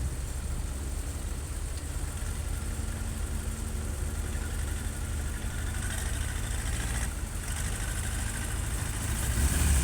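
A tractor engine runs steadily throughout, a constant rough rumble with no talking.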